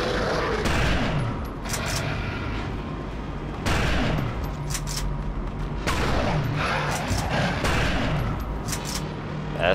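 Gunfire in a video game, repeated bursts of sharp shots and booms at irregular intervals over a busy background of game noise.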